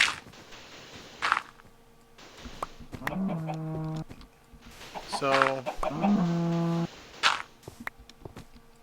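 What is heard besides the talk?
cow mooing in the video game Minecraft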